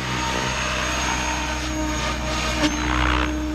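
A Mikado radio-controlled helicopter hovers and flies nearby, its rotor and motor producing a loud, steady whine with a constant pitch and a brief swell near the end.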